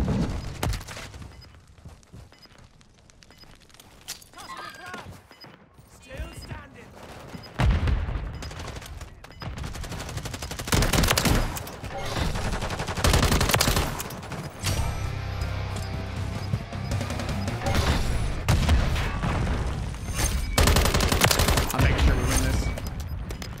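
Shotgun and other gunfire in the video game Modern Warfare 3, with repeated sharp blasts and bursts scattered through a busy mix, some heavy and close, while a player's voice talks over the action.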